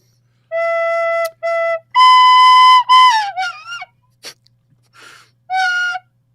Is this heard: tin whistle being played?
yes